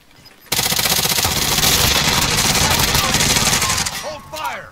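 Sustained automatic gunfire from a battle royale video game, a dense continuous burst of rapid shots that starts abruptly and runs for several seconds before cutting off, loud and close.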